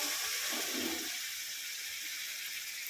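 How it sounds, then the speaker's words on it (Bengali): Water is poured into a simmering paneer curry, making a short gushing splash in the first second. A quieter, steady hiss of the hot pan follows, with no voices. "আরেকটু জল দিয়ে দিল ওই পনিরের জলটাই"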